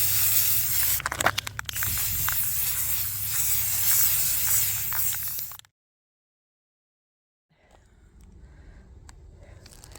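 Spray paint hissing from a can onto tiles laid on a plastic tablecloth, a close, steady spray lasting several seconds, then a full silence, then fainter hissing spray resumes.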